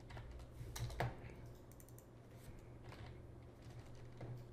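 Keys clatter steadily on a computer keyboard in a quiet room, soft rapid typing with a few louder strokes over a low steady hum.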